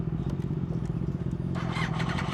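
Small go-kart engine buzzing steadily as the kart drives around the SpeedWay karting track in Elektrėnai, a continuous close drone with a brief rise in higher-pitched noise toward the end.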